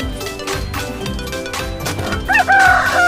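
A rooster crows once near the end, loud and close, following a few seconds of other animal noise with no talking.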